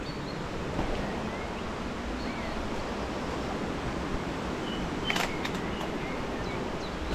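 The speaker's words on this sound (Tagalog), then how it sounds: "Narinig ko ng wagaswas. Ang wagaswas ng ilog eh." A river rushes in a continuous, dense wash of water noise that stays steady and close throughout, with no voices.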